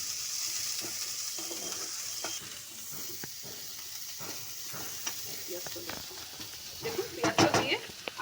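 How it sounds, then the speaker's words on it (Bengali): Sliced onion frying in hot oil hisses in a steady sizzle, with a faint voice now and then. Toward the end, louder bursts of crackling and scraping come as the pan is stirred. "দেখুন আমার তেল গরম হয়ে গেছে, আমি এবার পেঁয়াজটা দিয়ে দিচ্ছি।"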